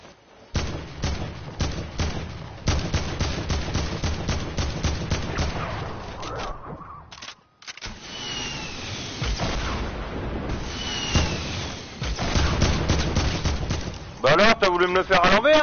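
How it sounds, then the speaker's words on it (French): Gunfire from a first-person shooter on PS4: rapid bursts of close shots and volleys recur throughout, broken by a brief silence midway, mixed with game effects and someone talking over them. "Les gars, c'est où que ça tire là-haut?"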